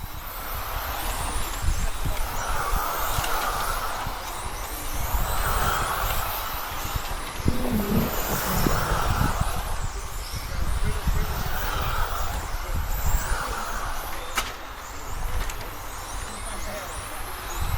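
An electric 1/10 scale on-road RC race car whines around a track at a charity race in Segrate, its high motor pitch rising and falling in repeated passes under continuous nearby talking.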